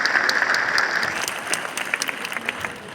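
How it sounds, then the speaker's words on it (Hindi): A crowd at a public awareness meeting breaks into enthusiastic applause to welcome a speaker, a dense, steady burst of clapping heard close and continuous throughout. "आप तमाम साथी मुदगल साहब का जोरदार तालियों के साथ स्वागत करें।"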